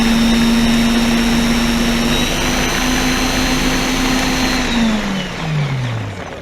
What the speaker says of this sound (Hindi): मिक्सी चालू करके दिखाओ।